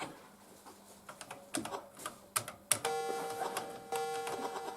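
Computer keyboard keys click in scattered, irregular presses during a game of Boulder Dash, mixed with short electronic game beeps and tones that grow busier toward the end.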